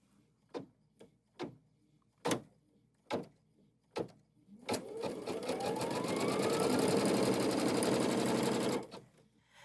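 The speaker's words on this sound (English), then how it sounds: "And the machine is then going to stitch that down." An embroidery machine stitching down a quilted triangle held in the hoop, starting with several sharp single clunks before settling into a loud, steady whirring run that stops abruptly near the end.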